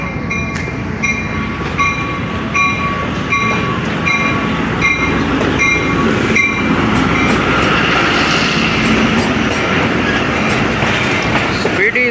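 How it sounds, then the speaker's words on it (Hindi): The Jaffar Express arriving fast at Wazirabad Junction in Pakistan, a loud continuous roar of rolling wheels and rhythmic clatter over rail joints with high squealing tones, close by and sustained throughout, with voices faintly underneath. "एंट्री हुई है वज़ीराबाद जंक्शन पर, स्पीडी अराइवल।"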